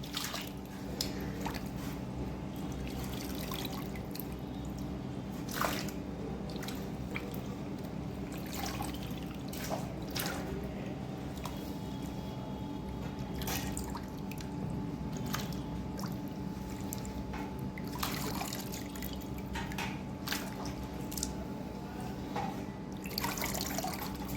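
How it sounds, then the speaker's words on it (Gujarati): Potato slices for wafers being washed by hand in clean water, a long, soft, continuous slosh and squish with scattered drips and light clinks, no talking. "પાછા ચોખ્ખા પાણીએ ધોઈએ"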